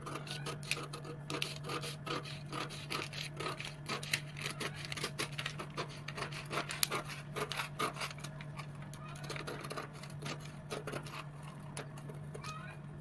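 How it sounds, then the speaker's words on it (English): Scissors snip and rasp steadily through a paper pattern, opening the side dart of a plus-size princess-cut bustier draft; many quick cuts sound close and fairly quiet over a steady low hum. "So we're going to cut it open, and after we cut it open, I'll show you how we close it out."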